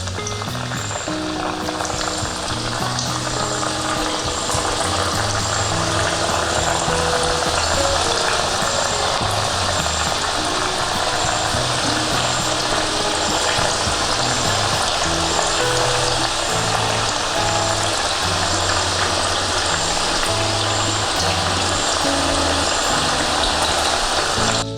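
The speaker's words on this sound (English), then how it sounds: "once you are done adding the fish into the oil, do not put the spoon right away. Let it fry on simmer" Breaded fish fingers fry in hot oil with a steady, dense sizzle and crackle like heavy rain, close and constant the whole time, with no talking.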